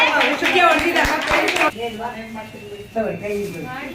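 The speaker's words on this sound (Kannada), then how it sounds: "ಚಪ್ಪಾಳೆ ಹೊಡೀರಪ್ಪ ಎಲ್ಲರೂ" People clap at a New Year party game, a burst of close, loud hand claps that stops after a couple of seconds and gives way to voices talking.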